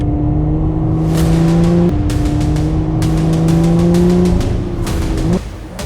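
A Lotus sports car drives at speed on the Zhejiang International Circuit, a wet, hilly race track; the loud engine note rises through the gears with several shifts, heard close and steady throughout.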